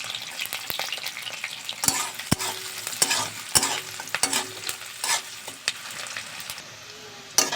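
Onion, green chili and boiled garlic fry in hot oil in a pan, giving a steady close sizzle broken by sharp spatula clacks and scrapes against the pan, with no talking.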